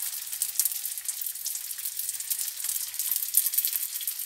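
Meat-filled pastels fry in hot oil with a steady, close, crackling sizzle that holds evenly throughout, with small pops and no voices.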